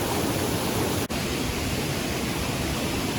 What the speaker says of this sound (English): Well, these are Fold's Falls.